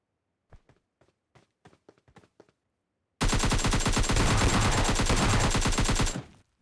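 PUBG Mobile Lite gameplay opens with a few scattered footstep-like taps, then a long, loud, continuous burst of rapid automatic gunfire that cuts off abruptly.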